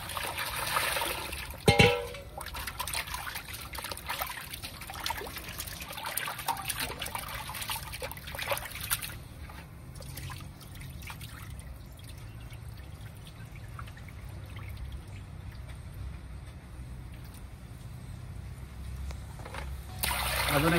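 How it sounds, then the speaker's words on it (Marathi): Goat testicles (kapure) being rinsed in clean water for a village-style biryani: steady trickling and sloshing with a brief louder splash near the start, and no talk over it. "पुरे स्वच्छ पाण्याने धुवून घेऊ।"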